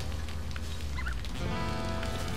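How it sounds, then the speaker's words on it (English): In the video game Shelter, a turkey-like bird gobbles in short warbling bursts near the middle of the clip. A steady rustling wash of game ambience runs beneath it, and no one speaks. "It's the stupid bird."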